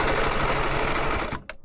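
A sewing machine stitches curtain panels inside an RV, its fast rattling motor running loud and close for over a second before stopping abruptly, followed by a faint click.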